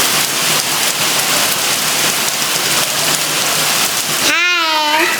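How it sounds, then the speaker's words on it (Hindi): Heavy rain pours steadily and loudly on a morning in a hilly area, a dense continuous hiss that fills the scene before a short whistling or calling voice cuts in near the end. "यहाँ पे बहुत गंदी बारिश हो रही है सुबह से, इतनी सारी बारिश है, इतनी ज़्यादा तेज़ बारिश है।"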